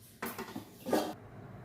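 Metal idli plates clatter softly while carrot idli batter is set into them, with a few quick clinks and scrapes close by in an otherwise quiet kitchen.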